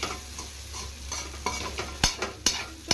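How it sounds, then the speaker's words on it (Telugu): Vegetable fried rice is stirred in a wide, heavy-bottomed pan, with a steady sizzle of frying under repeated scraping strokes and a few sharp clanks of the spoon against the pan near the end. "నేను వెడల్పాతి గిన్నె ఎందుకు పెట్టుకున్నానంటే ఈ విధంగా ఫ్రై చేసుకోవడానికి బాగుంటుంది."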